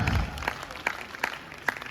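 Scattered clapping rises from the audience at a university convocation ceremony at Rishikul Campus, Uttarakhand Ayurveda University: a short run of sharp, separate claps with gaps between them, moderately loud.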